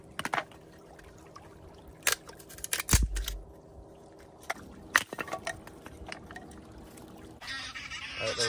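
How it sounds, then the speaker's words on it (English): Scattered honks from geese ring out at intervals over a quiet lakeside background in the Lake District, some sharp and close, others fainter, with a brief rustle near the end. "There's a lot of geese coming this way."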